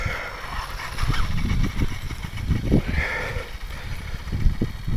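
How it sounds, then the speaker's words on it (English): ALX 100cc twin engine in an RC vehicle, running with a rough, pulsing roar that rises and falls in revs, close and loud throughout. "It's the most powerful RC engine"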